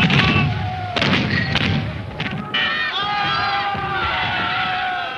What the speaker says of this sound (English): Cast iron ball of 3 pounds weight, fired from open sights. This is round shot.